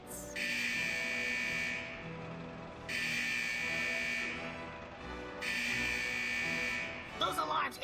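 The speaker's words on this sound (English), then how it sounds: "Those alarms indicate that we're encountering some minor technical difficulties with the fusion press unit." Alarms in a video game workshop ring out as a harsh electric buzzing tone in three long bursts with brief gaps, signalling a malfunctioning fusion press unit, ending in a short clatter.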